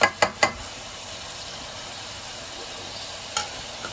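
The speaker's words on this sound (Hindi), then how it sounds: "अब डालने लगे हैं अदरक लहसुन और सब्ज मिर्च का पेस्ट।" Ginger, garlic and green chili paste sizzling in hot oil for Lahori mutton karahi, a steady fry hiss with a few sharp spatters and stirring clacks at the start and once more near the end.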